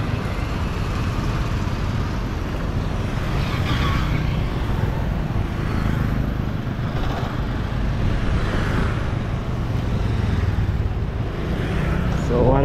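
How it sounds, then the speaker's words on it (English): Busy roadside traffic in a Kenyan village, with fast motorbikes and cars, a steady loud wash of engine and tyre noise with several vehicles swelling past in turn. "Here you have to be careful when crossing the road, because motorbikes are everywhere, moving speed fast."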